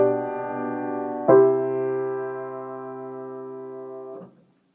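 Four-part SATB chord progression resolving to the tonic chord, sustained harmonic tones with a clear chord change about a second in, then a held tonic that fades and stops, alone and moderately loud.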